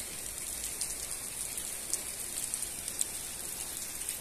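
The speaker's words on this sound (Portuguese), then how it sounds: "Eu acho lindo o tempo assim. Chuva." Heavy rain falls as a steady, soft wash of noise with a few faint drop ticks, fairly quiet and distant, and no voices.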